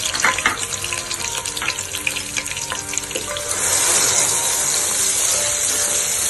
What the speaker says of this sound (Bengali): এখন আমি তেলের মধ্যে এক একে সব জিনিস দিয়ে দিচ্ছি, পেঁয়াজ বাটা দিচ্ছি